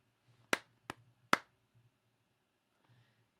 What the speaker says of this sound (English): So here's my claps.